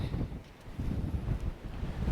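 Strong wind buffets the microphone in a village in Morocco, a loud, rumbling gusty roar that swells and dips for a couple of seconds.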